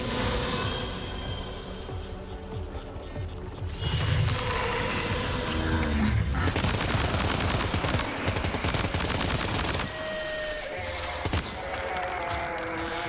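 Rifle fire in Death Stranding 2 crackles through a dense, busy game soundscape, with sharp loud bursts and mechanical clatter layered over constant background noise, the shots repeating irregularly across the stretch.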